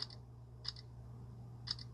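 A smartphone camera shutter fires in a quiet room, three short crisp clicks spaced about a second apart over a faint low hum.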